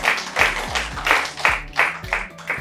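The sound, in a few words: audience applause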